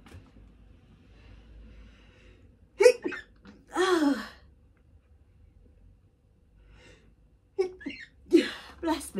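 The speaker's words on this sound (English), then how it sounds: "I've got to sneeze." A sharp sneeze bursts out close by, followed moments later by a second sneezy outburst, with quiet rustling in between.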